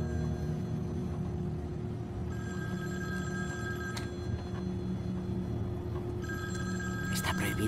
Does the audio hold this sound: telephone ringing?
yes